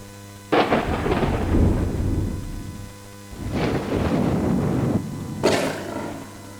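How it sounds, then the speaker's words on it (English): A thunder-and-rain sound effect played on a SeqTrak: heavy rumbling thunder rolls in three long waves over a steady hiss of rain, deep and loud with sharp crackling onsets. "Rain falling."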